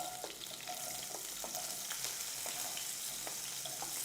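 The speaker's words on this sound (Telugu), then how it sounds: "ఇలా ఆనియన్స్ వేసేసి ఇలా కలిపేద్దాం" Onions and green chillies fry in a pan with a bright, constant sizzle, while a spoon stirs them with repeated scraping clicks at a loose, regular pace.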